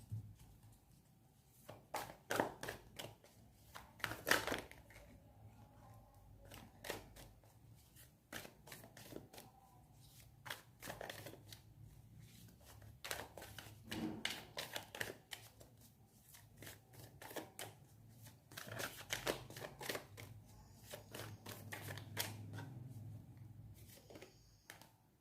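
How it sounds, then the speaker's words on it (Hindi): Tarot cards are shuffled and drawn by hand, with a long run of soft, rapid riffling and flicking bursts at close range, quiet and steady with only faint background hiss. "अभी और निकालेंगे कार्ड।"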